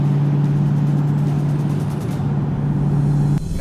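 A supercharged engine in a 2021 Dodge Charger SRT Hellcat Redeye Widebody gives a steady low drone with a faint high whine on top for about three seconds, then cuts off abruptly near the end.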